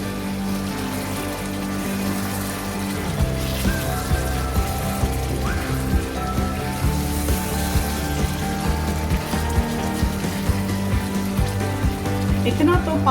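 Water pours into a pot of chicken biryani, a steady splashing and trickling that runs for several seconds, with a voice talking briefly alongside.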